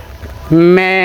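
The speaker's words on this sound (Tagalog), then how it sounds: "Ayan yung mga kambing dito" A goat by the roadside lets out a single loud, close, wavering bleat that rises in pitch partway through, after a brief moment of quiet outdoor background.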